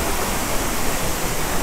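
Steady broadband rush of water pouring over the Düden waterfall in Antalya, Turkey, a continuous loud roar filling the clip with no break and no talk.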